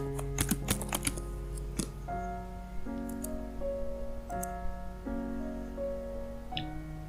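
Keystrokes on a computer keyboard as the title attribute text is typed, a few quick clicks near the start and then isolated taps over a steady sustained background tone.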